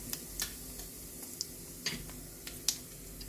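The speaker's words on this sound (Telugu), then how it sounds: "ఈ చటపట్లు అన్నిచ్చి" Mustard seeds, with cumin and urad dal, spluttering in hot oil in a pan for a fenugreek-leaf tomato curry tempering: sparse, faint, irregular pops and crackles over a quiet background hiss.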